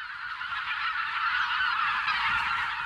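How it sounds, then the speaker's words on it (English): Wild geese honking overhead in late March, a mix of bean, white-fronted and greylag geese, their dense overlapping calls forming a steady, continuous clamour at moderate distance with no voices. "In late March, the skies suddenly get noisy."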